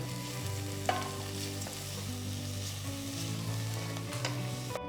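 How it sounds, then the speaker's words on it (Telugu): Onions and crushed garlic cloves sizzle steadily in a pan with a constant bright hiss and a low background hum, broken by a couple of light stirring clinks, near and unaccompanied by speech. "ఉల్లిపాయలు కాస్త మగ్గిన తర్వాత ఆరు దంచిన వెల్లుల్లి రెబ్బలు వేసి కలుపుకోవాలి"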